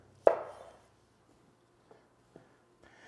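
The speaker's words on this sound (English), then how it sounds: "So I'm just gonna quarter these potatoes here." A knife slices through a creamer potato on a cutting board: one sharp, clear chop, then a few faint, sparse taps in an otherwise quiet kitchen.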